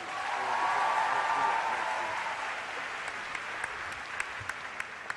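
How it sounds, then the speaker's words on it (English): A large conference audience applauds overseas leaders, a broad sustained wash of clapping that gradually thins out into a few scattered, distinct claps near the end. "big round of applause?"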